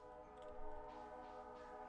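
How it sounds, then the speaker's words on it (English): A train rolls past in the Stardew Valley farming game, a steady low rumble with sustained horn-like tones holding throughout, moderately loud and continuous. "Train's coming."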